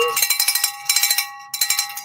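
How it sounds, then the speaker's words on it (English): A metallic bell rings close by in rapid bursts of struck tones, three quick runs of clangs separated by brief pauses, loud and bright with no talk over it. "Yeah, I'm sure y'all can hear my bell."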